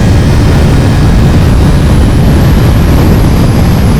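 A KTM SMT 890 motorcycle cruises on a highway, its engine droning steadily under loud, constant wind roar from close up, with no pauses or shifts.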